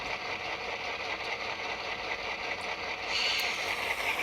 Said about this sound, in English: Let's listen to it rev up a little bit.